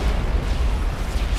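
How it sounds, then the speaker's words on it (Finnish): Bomb blast in the video game Call of Duty Modern Warfare 3, a loud, dense rumbling roar that fills the short stretch with heavy low-end boom and crackle, no voices over it. "Noin, pommi!"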